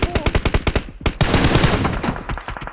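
Automatic gunfire in a video game rattles out as rapid, evenly spaced shots, then merges into a dense, continuous burst before breaking back into separate shots. It is loud and close, with no talk.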